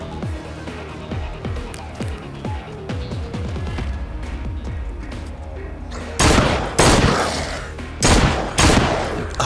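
Rapid gunfire in a zombie video game: quick bursts of sharp repeated shots ripple through the first half, then several louder, heavier blasts land spaced out toward the end.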